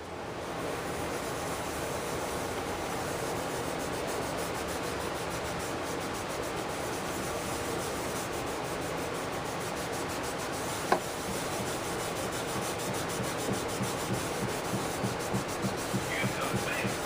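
CLP lubricant rubbed onto rusty metal with a cleaning patch, a steady close scrubbing and rubbing noise that continues evenly, with one sharp tap partway through and rhythmic strokes toward the end.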